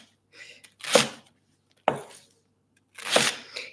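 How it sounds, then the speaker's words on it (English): A knife cutting through layers of leek on a board, three separate crisp crunching chops spaced about a second apart, close and alone. "With the knife smoothly moving through all these layers of onion"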